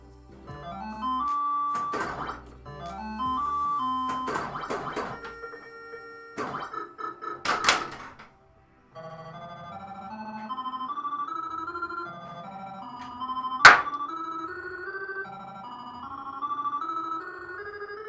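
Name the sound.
Paragon pinball machine being played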